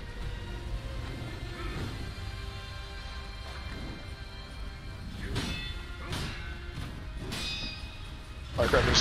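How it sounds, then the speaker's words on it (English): Scattered sharp cracks and pops of firecrackers in the video game Sekiro go off irregularly over a low background rumble, with a louder burst at the very end. "Oops, firecrackers."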